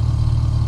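The artificial engine sound of a Neta V-II electric car, a steady low synthetic hum heard briefly and fairly loud on its own.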